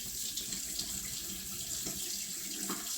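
Fresh water runs steadily from a tap into a sink, a continuous close hiss and splash with no break and no voices.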